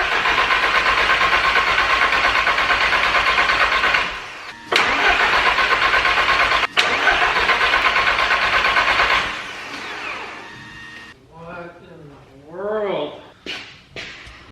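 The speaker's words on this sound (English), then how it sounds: "I put the new spark plugs in, because every time I've put the new spark plugs in, it usually fires up." A VW Mk1 Golf with a 1.8T engine and fresh spark plugs cranks loudly and steadily, briefly stops, cranks again, then catches and runs unevenly with revving swells toward the end; talking is heard faintly over the engine.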